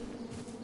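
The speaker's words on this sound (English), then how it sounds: "Bees!" Buzzing of bees in the King's Quest video game, a steady droning hum that holds at an even level for under a second with no talk over it.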